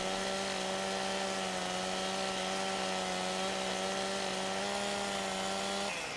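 A chainsaw cutting logs in the Farming Simulator 15 video game, a steady, loud engine drone held at an even pitch for several seconds before it cuts off abruptly at the end.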